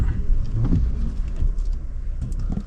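Steady rain patters and hisses on surfaces in the Saint Elmo ghost town, with low rumbles underneath, continuous and fairly close, no voices.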